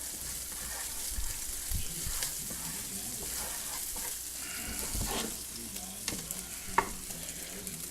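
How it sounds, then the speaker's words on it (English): Butter melting and sizzling in a pan on a burner turned up high for sausage gravy, a steady close hiss broken by occasional scraping and stirring clinks, with no talk. "Then we'll take a couple tablespoons of butter. Put it in there and mix that around with it."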